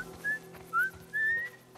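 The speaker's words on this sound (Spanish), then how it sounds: "Estoy silbando." A character in The Last of Us Remake whistles three short rising notes, clear and alone over a quiet background hum.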